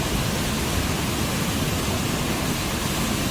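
Steady, dense roar of the waterfall at Brooks Falls, a continuous broadband rush holding an even level throughout with no breaks and no voices.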